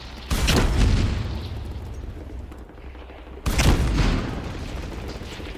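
Two loud, booming explosions in the video game BattleBit Remastered, spaced about three seconds apart, each a sharp blast followed by a rumbling tail that fades under steady background noise.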